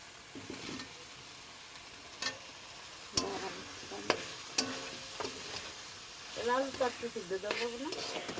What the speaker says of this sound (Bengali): এবার কি মশলাটা একটু কষবো না